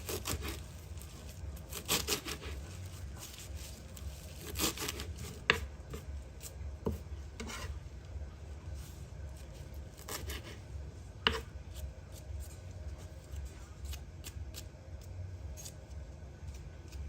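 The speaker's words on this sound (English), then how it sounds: "So now just gonna chop the parsley leaf." Knife chopping parsley leaves on a board, a long run of quick, soft, irregular taps at close range with no talk over it.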